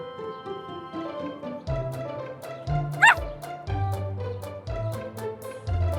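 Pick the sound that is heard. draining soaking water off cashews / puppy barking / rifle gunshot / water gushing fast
puppy barking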